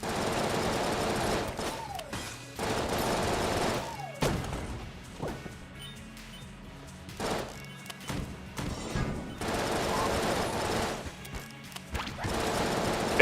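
Video game weapon fire comes as irregular bursts of thumps and cracks, with rapid volleys mixed with game effects and rising tones, loud at moments and dropping between shots.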